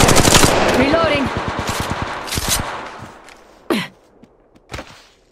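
Rapid automatic gunfire in the mobile game Apex Legends Mobile rattles loudly at close range for about three seconds, followed by a couple of isolated thumps and a fading tail.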